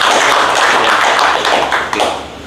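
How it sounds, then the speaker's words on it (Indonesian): Audience applause at a podcast event in a café in Bangkalan, Madura, a dense, steady wash of many hands clapping close by for about two seconds, then thinning out near the end. "Tepuk tangan dong buat One More International."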